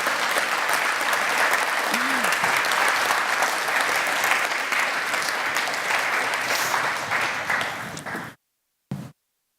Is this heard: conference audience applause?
yes